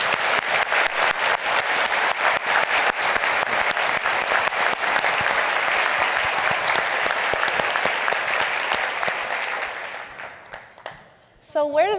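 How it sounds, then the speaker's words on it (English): Dense, sustained applause from a large audience honoring awardees at an awards ceremony in a hotel ballroom, steady and loud for about ten seconds before thinning out, with a voice starting to speak at the very end. "So a round of applause for all of our awardees"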